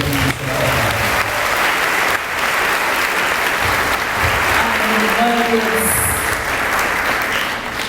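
Congregation applauding at a church missions congress in Brazil, loud continuous clapping filling the whole stretch, with some voices and faint cheering mixed in.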